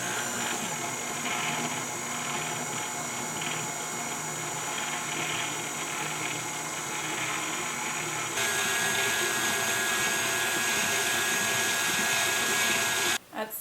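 An electric mixer drones steadily while beating chocolate chip cookie dough in a bowl, a constant whirring motor hum that shifts to a higher speed partway through before stopping abruptly.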